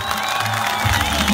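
A crowd claps and cheers at the opening of a Cumhur İttifakı election office in Sığacık. The dense clapping and scattered voices are steady and fairly close, with no pause.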